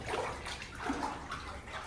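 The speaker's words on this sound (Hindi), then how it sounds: "एक रास्ता आता है जहाँ पे पानी है, और पानी में को जाना पड़ता है" Water sloshes and splashes continuously as people wade through a flooded cave passage in the Vaishno Devi shrine in Chandigarh. Fairly faint, with a steady churning wash and no clear speech.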